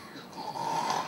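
A voice imitates snoring in one short, raspy, drawn-out snore that rises and then fades, heard alone and up close.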